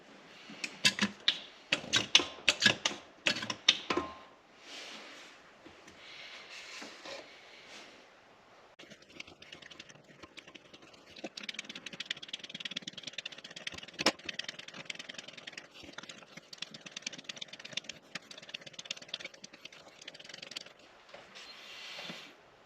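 Fluid being hand-pumped into a BMW X3/X5 xDrive transfer case, heard as a series of sharp, rapid mechanical clicks and squirts up close at first, then a steadier, busier pumping noise with scattered clicks continuing throughout.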